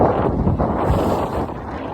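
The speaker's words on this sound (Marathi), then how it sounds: "आता आपला चाललाय कलेटांचा जाल आणि वादल वारा बघू शकता" Stormy wind at sea roars across a fishing boat at Kashakhadak, a loud, constant gusting rush that buffets the microphone with no voices.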